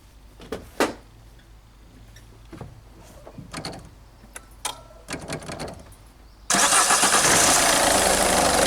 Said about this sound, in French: Et après, vous démarrez le moteur.